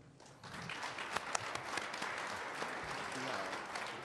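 Applause fills a press conference room, a dense steady wash of clapping from a crowd that holds at an even level throughout, with a few sharper claps standing out.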